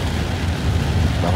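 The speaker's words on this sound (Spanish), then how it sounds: "bajo la lluvia" Steady dense hiss of June rain falling in Sonsonate, El Salvador, continuous and fairly loud with a low rumble underneath.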